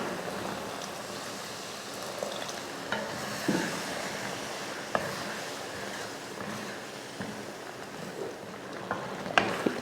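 Taro root tamarind curry sautéing in oil gives a soft, steady sizzle, with a few scattered scrapes and clinks of stirring heard close by and no talk.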